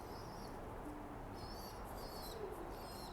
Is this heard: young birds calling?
yes